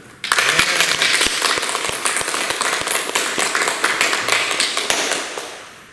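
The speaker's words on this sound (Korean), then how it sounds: "오늘 좋은 질문해 주실 때 박수 한번 부탁드립니다." Listeners at a Buddhist meditation lecture burst into sudden, loud applause full of crisp individual claps, holding steady for several seconds before tapering off.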